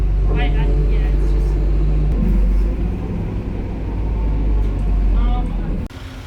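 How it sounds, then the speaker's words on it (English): Interior of a city bus in Cairns: loud, steady low engine rumble and road noise fill the ride, with faint voices in the background before the sound cuts off near the end. "now, guys, we're on our way to the gardens on the bus"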